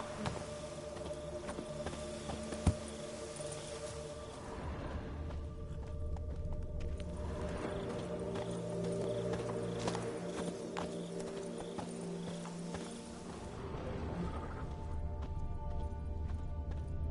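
Hooves of Roach, a horse in The Witcher 3, clip-clop in a steady walking rhythm, close and clear over a soft ambient game background.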